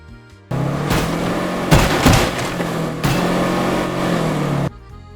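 A vehicle in State of Decay 2 roars along with a steady mid-pitched engine drone, swelling louder between about 1.7 and 2.3 seconds and again at 3 seconds, then cutting off near the end.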